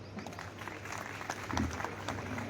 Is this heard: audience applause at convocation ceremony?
yes